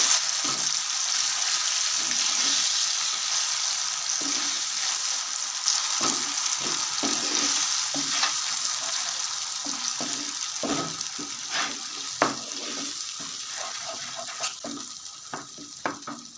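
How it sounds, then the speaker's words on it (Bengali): Ground spice paste for paneer bharta fries in a hot pan, a steady close sizzle broken by repeated scraping strokes of a spatula as it is stirred. "সমস্ত উপকরণগুলো খুব ভালো করে কষিয়ে নেবো"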